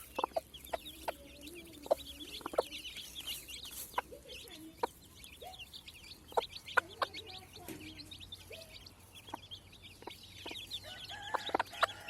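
A mother hen clucks softly and repeatedly nearby, with chicks peeping and quiet farmyard ambience throughout.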